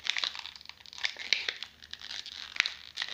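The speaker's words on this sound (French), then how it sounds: "Vous allez me voir me battre pour ouvrir ce truc." Plastic packaging around a lip balm crinkles and tears in quick bursts of crackling and ripping as someone struggles to open it, close by and with no talking.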